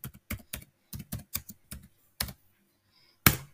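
Quick bursts of typing on a computer keyboard, several clusters of rapid key presses close up with short pauses between them, ending in one sharp loud keystroke; no talking.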